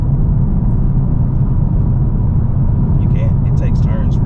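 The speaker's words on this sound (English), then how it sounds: "I guess I'll give it a little gas up here." A 2020 Toyota Camry TRD pulls forward under steady throttle, its deep, even engine drone and road rumble heard from inside the cabin and filling the whole moment, with a faint voice near the end.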